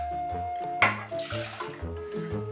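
Water is poured from a glass over couscous semolina in a home kitchen, a short splashing pour with light trickling and clinking under steady background music.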